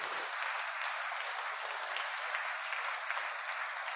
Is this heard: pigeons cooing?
no